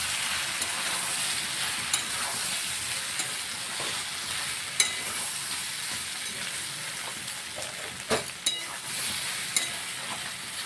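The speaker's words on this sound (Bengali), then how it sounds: "যতক্ষণ আমাদের এখানে গাঁটি কচুটা ভাজা হচ্ছে" Taro root (gathi kochu) fries with chili powder in a pan, giving a soft, steady sizzle. Occasional sharp clicks of a spoon stirring break through, and no one speaks.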